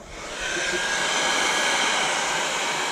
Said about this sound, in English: first we're going to use a heat gun, try to heat up